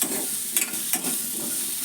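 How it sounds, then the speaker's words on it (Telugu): Tempering spices frying in oil (dried red chilies, urad dal, mustard seeds and cumin): a constant close sizzle with a few brief crackling bursts and stirring, no voices. "తాలింపు ఎండుమిరకాయ, మినపచెక్కు,"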